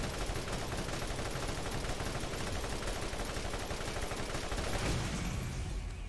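Sustained gunfire in the Borderlands video game, a dense unbroken stream of rapid shots loud and close throughout, with no talking.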